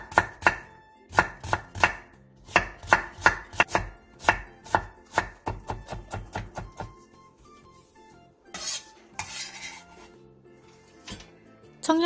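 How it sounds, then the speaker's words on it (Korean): A knife finely chops carrot on a cutting board in a home kitchen, with rapid, steady, close-up taps in a quick rhythm, then slower, scattered cuts and scraping toward the end. "당근 조금을 잘게 다져주세요."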